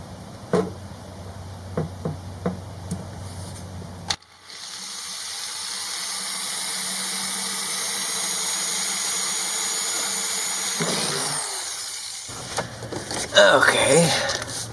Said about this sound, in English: I'm gonna drill a couple of holes.